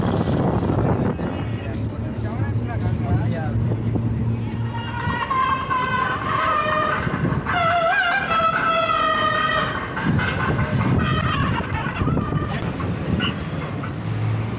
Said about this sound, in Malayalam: അപ്പോൾ നമ്മൾ അങ്ങനത്തെ ഒരു ബസ്സിൽ കയറിയിരിക്കുക.